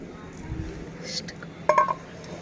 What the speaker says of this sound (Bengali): তো আমি এই যে ফ্রাইং প্যানটা নিয়ে নিয়েছি, তো চলুন এটা রোদে কিছুক্ষণ রেখে দিই।